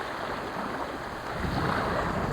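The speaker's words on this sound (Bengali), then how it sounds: "আজকে প্রচুর ঢেউ বাতাস" Steady broadband rush of wind and surging sea water on a seashore at high tide, with waves swelling louder toward the end; continuous and close, no voices.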